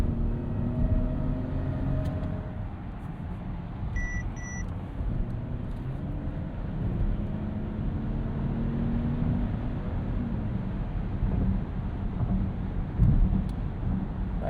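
Cabin of a 2026 Mercedes-Benz GLS 450 accelerating on a road trip as the 9-speed transmission kicks down, a steady engine and road drone with rising engine tones and a couple of brief chimes.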